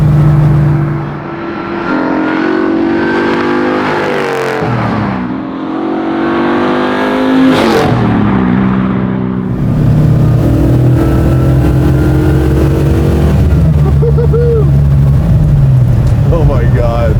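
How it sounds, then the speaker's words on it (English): A 426ci '70 Dodge Charger restomod doing burnouts, its V8 roaring loud and close with surging revs and shifting engine pitch, while people talk over it. "Burnouts. No problem. Yeah, it does burnouts."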